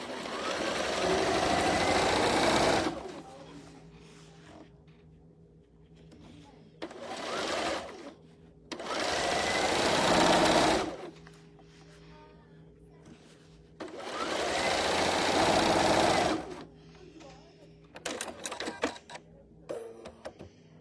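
A sewing machine stitches down a quilted Christmas table runner in loud close bursts of rapid whirring, four long runs of a few seconds each separated by quiet pauses, ending in short stop-start stitches.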